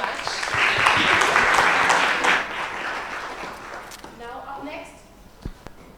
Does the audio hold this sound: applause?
yes